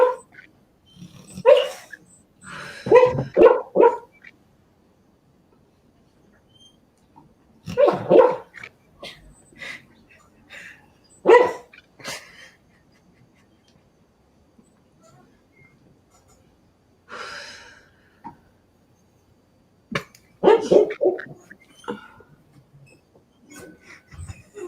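A sleeping female dog barks while dreaming, giving scattered bursts of muffled, choppy woofs and soft yips with long quiet stretches between them, heard close indoors.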